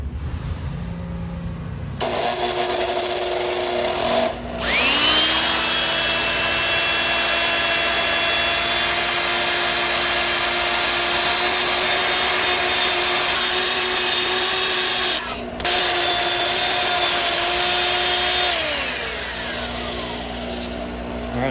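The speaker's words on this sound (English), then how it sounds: "to clean up the chuck, I'm going to use the wire brush" An electric drill spinning a wire brush whirs steadily at high speed with a harsh buzzing edge, cleaning a GE Model TH-20 drill chuck, running nearly continuously with a brief stop and restart near the middle.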